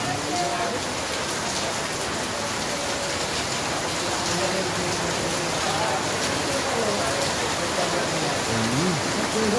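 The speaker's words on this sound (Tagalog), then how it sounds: "Ayan po, oh, lakas ng ulan, oh." Heavy rain pours down in a dense, continuous hiss that fills the whole scene, while faint voices talk underneath the downpour.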